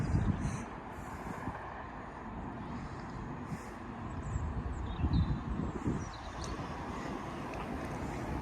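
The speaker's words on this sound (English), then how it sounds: "now arriving is a class 385 for Lanark from Glasgow Central" A Class 385 electric train pulls into Motherwell station on the Glasgow Central to Lanark service, a steady low rumble and rolling hum held at moderate loudness throughout, with some wind buffeting and no talk.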